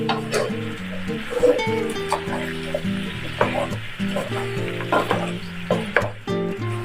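Pork spare ribs coated in oyster sauce sizzle in a hot pan while being stirred, giving a steady frying hiss broken by repeated scraping and clattering of the utensil; a faint tonal hum runs underneath, with no talk.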